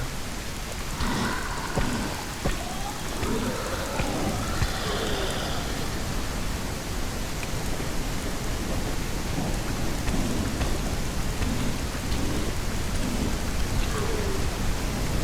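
Heavy rain pours steadily in the video game SurrounDead, a dense, constant hiss with rumbling thunder rolling underneath, loud and unbroken throughout.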